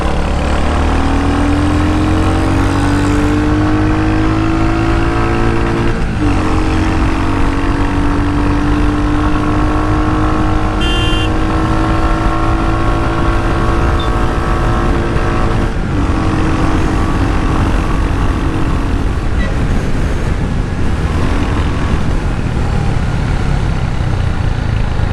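A Royal Enfield Hunter 350 single-cylinder motorcycle cruising through the city, its engine droning loud and close, rising slowly in pitch as it speeds up, with a brief gear change midway and steady wind rush.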